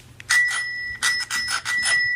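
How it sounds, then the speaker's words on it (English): A bicycle bell rings in several quick bursts of bright, sustained metallic tone, close and loud, with short gaps between rings and nobody talking. "Oh, it's my bike bell."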